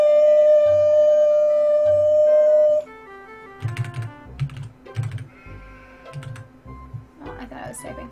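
Computer keyboard typing in a series of short clicky bursts after a long steady tone fades out, fairly close and moderately loud, with pauses between the flurries of keystrokes.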